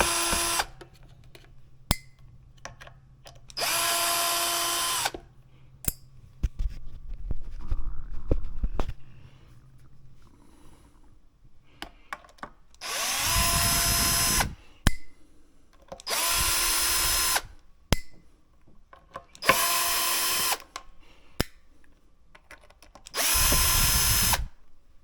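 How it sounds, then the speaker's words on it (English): A cordless power drill backs screws out of a Mexican Stratocaster electric guitar in six loud, close whirring bursts, each a second or two long, separated by quieter pauses with small clicks and handling noise. "So let's go ahead and take off all the screws."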